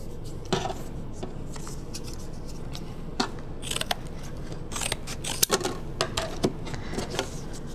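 Scissors cutting pieces of Worbla thermoplastic, giving sharp crisp snips and crackles at irregular intervals over quiet background, close and fairly faint.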